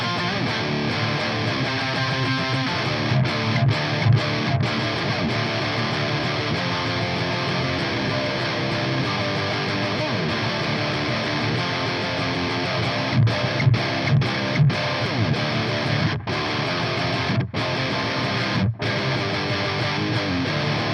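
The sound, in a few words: electric guitar in drop C through Orange Rockerverb 100 amplifier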